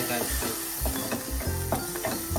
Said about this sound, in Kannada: ಒಂದು ಟೊಮ್ಯಾಟೊ ಪ್ಯೂರಿನ ಹಾಕೋಣ